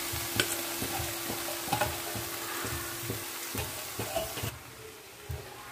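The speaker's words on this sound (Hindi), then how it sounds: "अब हम एक पैन में दाल को ऐड कर देंगे।" Soaked moong dal tipped into a hot pan and stirred, a low sizzling bed broken by regular scraping strokes of a spoon roughly every half second, close up, easing off near the end, no voices.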